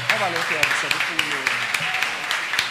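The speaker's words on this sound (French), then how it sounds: "Je vous demande d'applaudir les élèves du NS1, NS1B." An audience applauding school students at a competition, a sparse scattering of separate claps beneath a speaker's amplified voice that talks throughout.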